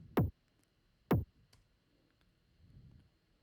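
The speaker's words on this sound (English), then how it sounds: "the first part of the first tom sounds like this." Two short, sharp hits from a layered tom drum sample in a minimal techno track, with a quick pitch drop, close and punchy, followed by faint clicks and a soft low rumble.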